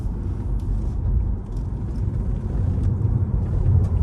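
Electric car rolling along a country road, a steady low road rumble and tyre noise close by, continuous with no distinct engine note.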